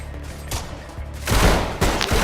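Rapid gunfire in the video game Decaying Winter, loud bursts of shots that swell after a quieter start and keep rattling to the end.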